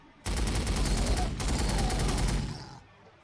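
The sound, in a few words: Punisher tank gunfire in Warhammer 40,000: Sanctus Reach video game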